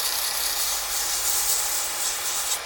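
Abrasive paper rubbing against a snakeskin pen blank spinning on a lathe at about 2,000 RPM gives a steady, close, airy hiss that holds unbroken for the whole stretch with no talking.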